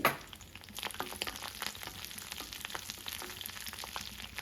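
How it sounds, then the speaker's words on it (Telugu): Sesame seeds, curry leaves, green chillies and garlic frying in hot oil in a pan, a soft continuous sizzle with scattered crackles and pops. "నువ్వులు వేసాను కరివేపాకు పచ్చిమిరపకాయలు వేసుకొని వెల్లుల్లిపాయలు కూడా వేసుకొని కొద్దిగా వేగనిచ్చి"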